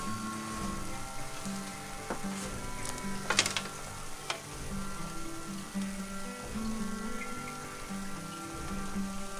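Food sizzles and crackles steadily over an open fire after being flipped, a continuous frying hiss with scattered sharper pops and a brief clatter of handling partway through.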